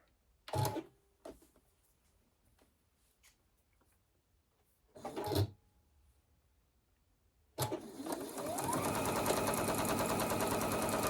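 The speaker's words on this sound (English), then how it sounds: "So let's sew this edge together." After a few isolated thumps and clicks, a sewing machine starts and runs continuously, loud and close, stitching along the edge of a Double Wedding Ring quilt.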